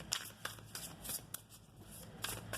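Tarot cards being shuffled by hand at close range, a few quick riffling bursts with brief pauses between them, quiet and alone with no talking.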